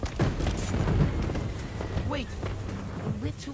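Fireworks burst in the Spider-Man 2 video game as dull, rumbling booms and crackling blasts roll under excited voices talking over the action.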